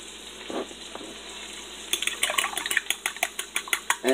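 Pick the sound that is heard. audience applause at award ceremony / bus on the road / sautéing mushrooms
sautéing mushrooms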